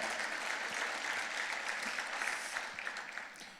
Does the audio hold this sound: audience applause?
yes